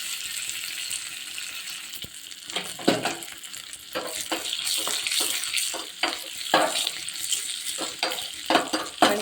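Mustard seeds crackle and pop brightly in hot oil with irregular sharp bursts over a soft sizzle, close up, no voices.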